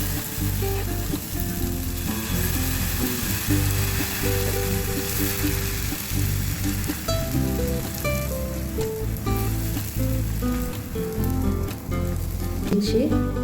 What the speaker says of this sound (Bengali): তেল গরম হয়ে গেছে। এবার আমি এতে দিয়ে দিচ্ছি 1 হাতা মতো গোলা।